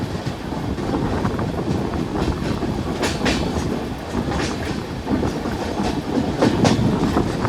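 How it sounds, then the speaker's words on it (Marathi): A passenger train moves at restricted speed through the ghat section near Narmadapuram on the Ujjain to Purna route. Its wheels give a continuous near rumble with repeated clickety-clack beats over rail joints, with no voices. "या घाट सेक्शनमध्ये गाड्यांना स्पीड लिमिट दिलेलं आहे"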